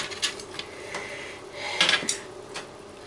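A metal utensil scrapes and knocks against a tin while food for a Brazilian chicken pie is pushed in, several short rasping strokes and light clinks, quiet and close with no talk.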